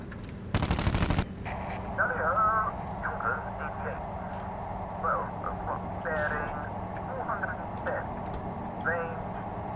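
A short, loud burst of machine-gun fire from the F4F Martlet's guns in the IL-2 flight combat game, followed by a steady engine drone with someone talking over it.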